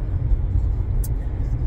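A 2015 Buick Encore with a worn front right wheel bearing and new rear brakes and rotors cruises at about 53 mph, its cabin filled with a steady low road and engine rumble, no talk over it.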